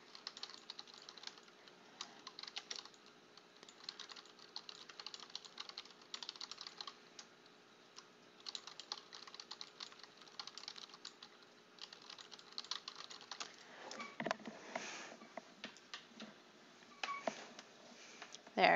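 Typing on a computer keyboard, fairly quiet and close, in irregular bursts of clicky keystrokes for most of the span with short pauses.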